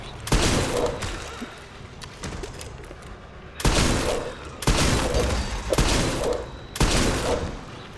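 Shotgun blasts in Resident Evil Requiem boom one after another, about five heavy loud shots spaced roughly a second apart, each with a rumbling tail and a dull pump-and-reload gap between.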